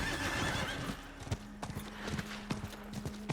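Horse galloping in the video game Diablo 4, a quick run of rhythmic hoof clip-clops with a whinny, fairly quiet with a faint tonal background hum.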